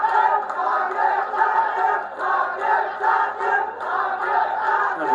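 A packed cricket stadium crowd, with West Indies supporters among them, roars steadily in a dense wall of cheering and chanting that swells and dips in regular waves throughout.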